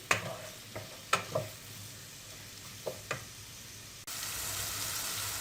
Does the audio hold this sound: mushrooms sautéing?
yes